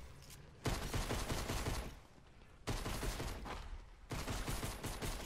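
Rapid gunfire rattles in the Alan Wake video game, three loud sustained bursts of shots separated by brief pauses, close and dense with no speech.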